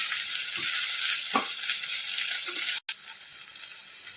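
Vegetables for crispy soya chilli fry in a pan with a steady, close hiss and sizzle, with a few faint stirring knocks and no voices.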